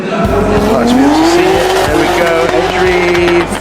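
A drift car in a drifting competition run, with a loud, sustained screech of squealing tires over a roaring engine whose pitch rises and holds, all close and continuous.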